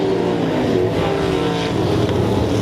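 305 sprint cars roaring around RPM Speedway during heat racing, a dense, steady engine drone with layered revving that holds loud and continuous throughout.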